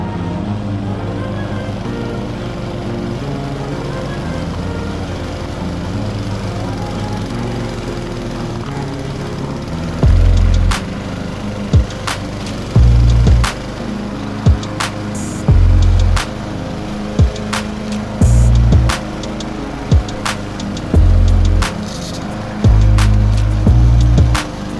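Steady lawn mower engine cutting tall grass, running continuously and close, with repeated heavier bogging bursts and sharp clatters as the blade meets thick growth in the second half.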